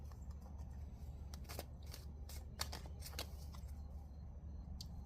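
Tarot cards being shuffled by hand in a quiet room, giving repeated crisp riffling bursts and soft card slaps over a low steady room hum, with no talking.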